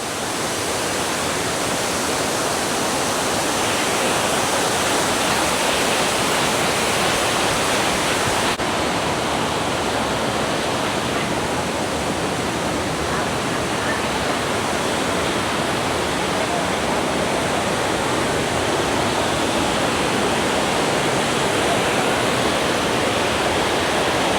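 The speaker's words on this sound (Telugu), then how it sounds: "ఇక్కడ దీన్ని సృష్టించారండి. మనమేమో న్యాచురల్ వాటర్ ఫాల్ ఏమనుకున్నాం, ఇదంతా కూడా మామూలు వాటర్." An artificial waterfall at Cat Cat Village in Sapa, Vietnam, roars as a loud, unbroken wash of falling water close by throughout, with no voices.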